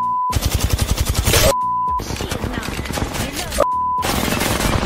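Rapid automatic gunfire in Apex Legends: dense bursts of shots in three runs broken by short silences, each gap ending in a brief electronic beep, loud and close with some voice mixed in.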